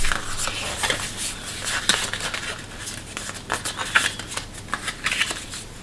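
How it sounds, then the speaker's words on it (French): Paper folds being creased by hand for a handmade accordion mini album, a run of soft, dry rustles and scrapes with sharper crisp accents, close and fairly quiet, with no talking. "On va bien marquer les plis."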